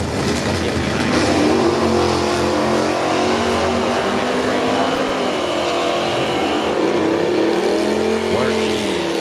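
Drag racing car accelerating hard down the strip at an outdoor drag racing event, a loud sustained engine roar with rising harmonics that stays steady and close, with a crowd ambience underneath.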